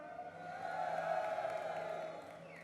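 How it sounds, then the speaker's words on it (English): A passionate crowd at the Insomnia 46 World of Tanks UK grand final roars and cheers in a sustained, swelling wall of voices that peaks midway and then eases slightly. "A very passionate crowd"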